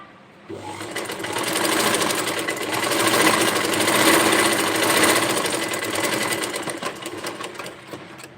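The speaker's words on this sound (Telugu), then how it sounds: "ఫస్ట్ దగ్గర నుంచి మనం పట్టుకొని కుట్టుకుంటా ఉంటే కనుక అలా" Sewing machine stitching a blouse, running steadily and close with a continuous rapid mechanical whir and needle rattle, starting after a brief pause and holding at a fairly even level throughout.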